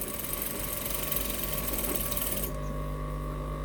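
A sewing machine runs steadily as it sews elastic into a ruched skirt, a close, even mechanical whir and rattle that continues throughout with no talking.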